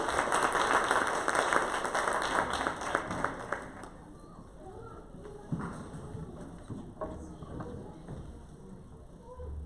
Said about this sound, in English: can I have a huge round of applause for Shobna?